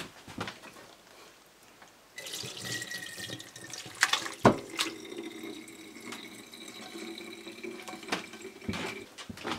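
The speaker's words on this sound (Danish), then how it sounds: "hælder du det over i dørslaget og får det meste af vandet ud" Boiled water full of toilet-paper pulp is poured from a pot into a colander in a home kitchen. After a quiet start comes a sustained splashing gush of draining liquid with a few clanks, close and moderately loud.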